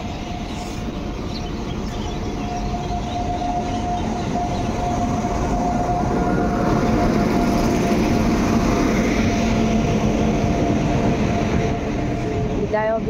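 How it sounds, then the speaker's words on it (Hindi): A Silchar superfast train arrives with a loud, continuous rail rumble and a steady tonal whine running through all thirteen seconds, close and unbroken. "train आसीगला finally सिलचा super fast"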